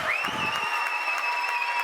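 A high school student section cheers at a boys' basketball game, making a loud, continuous wash of crowd applause and noise, with a steady high tone running through it.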